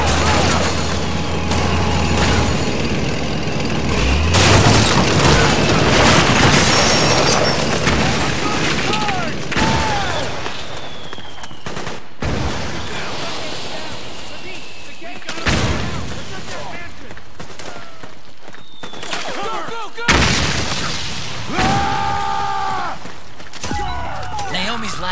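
Rebel gunfire and explosions during a fight to break into a mansion compound in Metal Gear Solid 4, with loud bursts and heavy rumbling booms throughout, fading to scattered shots and game sounds while voices speak over the action.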